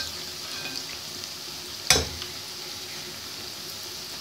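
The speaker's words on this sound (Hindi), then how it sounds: "बहुत खूबसूरत नॉर्मल हीट पे पकोड़े तैयार हो रहे हैं" Onion pakoras frying in hot oil at normal heat, a soft steady sizzle and crackle heard up close, with one sharp clink of a spoon partway through and no talking.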